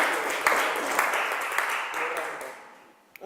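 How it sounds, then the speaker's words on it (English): A live audience gives a round of applause at a gathering of Catholic women and men religious, steady dense clapping with a few sharper claps standing out, sustained for several seconds then thinning and fading toward the end. "Give them a round of applause."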